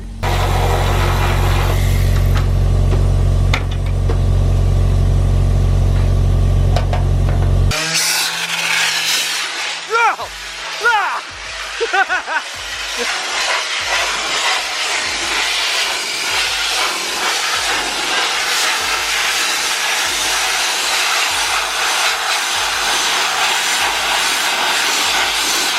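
Dustless blasting rig spraying wet abrasive onto an S10 pickup truck: a steady compressor drone gives way to a loud, harsh hissing blast that roars on continuously, with voices talking over it.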